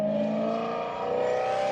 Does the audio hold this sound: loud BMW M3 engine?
yes